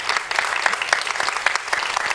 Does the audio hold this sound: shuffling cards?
no